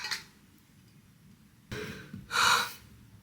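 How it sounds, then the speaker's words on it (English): A woman gasping and struggling for breath, with short sharp intakes of air separated by pauses, close and fairly loud, the last gasp the strongest. "Why can't I get a breath?"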